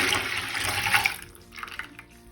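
Warmed milk poured into a mixing bowl for pizza dough, a steady close splashing stream that tapers off into a few trailing drips.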